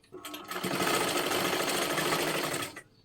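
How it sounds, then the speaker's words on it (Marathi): Up close, a sewing machine puts a double stitch on a blouse in one continuous whirring run of about two seconds, then stops. "त्याच्यावरतीच आपल्याला पुन्हा एकदा एक डबल शिलाई मारून घ्यायची आहे"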